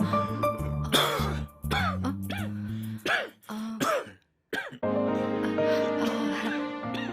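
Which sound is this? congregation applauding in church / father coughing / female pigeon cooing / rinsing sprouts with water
father coughing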